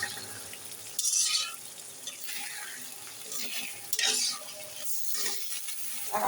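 Food fries slowly over a weak, low gas flame, a soft sizzle broken by recurring bursts of louder hissing and scraping as a spoon stirs the pan.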